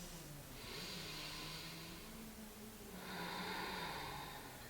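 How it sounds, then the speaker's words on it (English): Slow, deep breaths drawn in and out through the nose during a floor-based exercise session: two long, soft, airy inhales and exhales, close and quiet, with no talking. "We'll take a few deep breaths."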